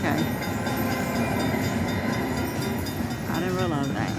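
Gold train bonus feature sound from a casino slot machine game, a dense, steady mechanical rumble and clatter with a brief warbling electronic flourish near the end, loud and continuous.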